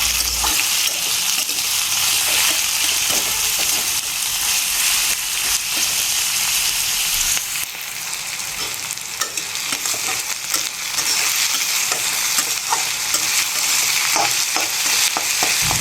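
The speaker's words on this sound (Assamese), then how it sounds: "আৰু এই পিঁয়াজখিনি ৰংচঙীয়াকৈ ভাজিব নালাগে, এইখিনি কেৱল কেঁচা ভাৱটো যোৱাকৈ ফ্ৰাই কৰি লৈছোঁ" Chopped onions sizzle loudly in a hot pan for an onion fish curry while a spoon stirs and scrapes through them, a continuous close frying hiss with a brief dip midway.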